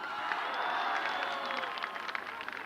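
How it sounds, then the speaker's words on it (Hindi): Crowd applause at a large outdoor political rally in Taxila, a broad wash of distant clapping and cheering from a big gathering, fairly faint, with sharper claps near the end. "इनके लिए भरपूर तालियां।"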